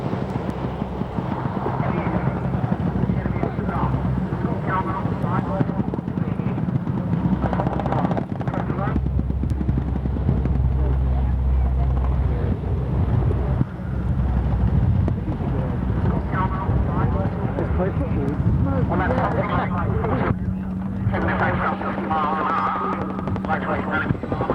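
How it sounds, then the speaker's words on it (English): A Boeing Chinook helicopter flies at the Mildenhall Air Fete air show, its heavy rotor roar a steady broadband rumble through the whole stretch, with a voice heard over it at times. "The RAF's rotary wing heavyweight is the Boeing Chinook."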